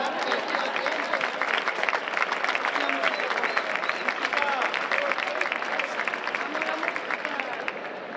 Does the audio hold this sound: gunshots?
no